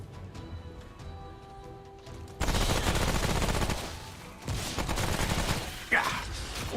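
Rapid gunfire bursts in the video game Remnant: From the Ashes, dense and loud, starting after a quieter stretch and continuing in sustained volleys with a sharp crack near the end.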